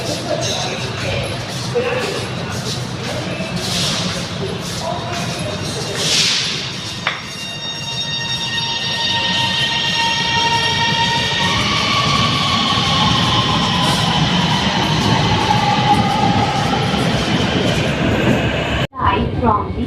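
An Orange Line metro train in Lahore, Pakistan rumbles steadily and loudly, with rising whines as it gets moving, a faint chime and a brief thump, then a sharp cut near the end.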